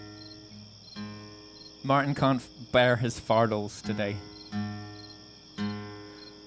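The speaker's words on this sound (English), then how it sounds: "There, you can have some crickets while I tune." Crickets chirp steadily in the background, a continuous high trill, while a person speaks over them in the foreground.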